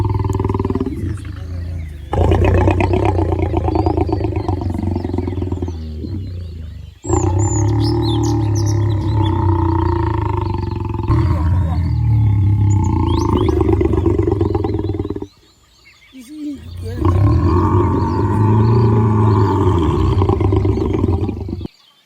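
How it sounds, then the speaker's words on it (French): A lion purrs in deep, rumbling bursts, several long stretches broken by brief pauses, close and loud. "Le lion d'Allah peut aussi être amené à émettre un autre son que l'on appelle le ronronnement"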